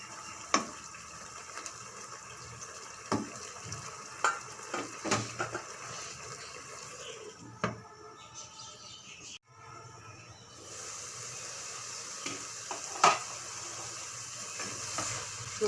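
Winter vegetables with lentil bori frying in a pan, a soft continuous sizzle broken by clicks and scraping of a spoon during stirring, quiet and close.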